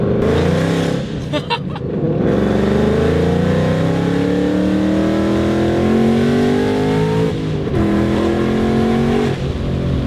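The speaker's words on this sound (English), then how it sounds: "not a lot of supercharger whine. It's just mostly motor, but that's probably mostly because of the exhaust" A loud, powerful supercharged 700 hp Ford Mustang GT engine and exhaust roar steadily as the car accelerates, the pitch rising through gears with brief dips between shifts.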